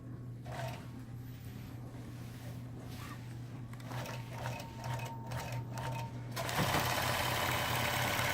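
A sewing machine stitches a paisley feather quilting pattern, fast mechanical chattering in bursts with short pauses over a steady motor hum, close and moderately loud, ending in a brief louder rush.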